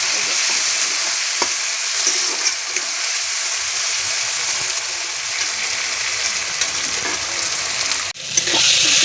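Tomato and onion cook in oil in a pan for a soybean and egg gravy, giving a loud, continuous sizzle with light stirring scrapes. A brief clunk near the end interrupts the frying.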